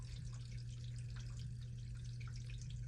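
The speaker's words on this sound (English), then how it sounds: "for the water to stop draining. You hear the water?" Water trickles and drips softly as it drains from pipes under a house, a faint continuous draining sound with scattered small drips over a low steady hum.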